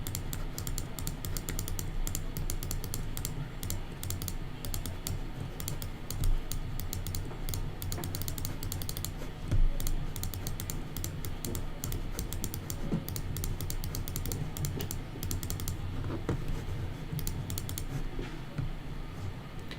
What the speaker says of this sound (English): is the clicking a bit much?